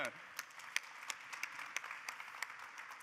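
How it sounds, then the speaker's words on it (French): Applause from a conference audience in France, a steady bed of many hands clapping with a few sharper individual claps standing out, moderately quiet and continuous throughout. "Bravo, vous pouvez vous applaudir."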